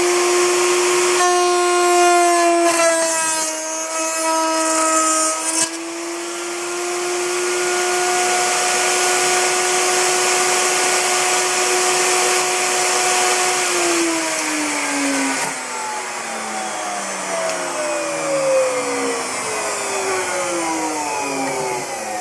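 A power tool cuts a box joint guide pin slot in wood for a jig, a loud continuous whine that holds steady, then shifts pitch and runs on under load, with no talk.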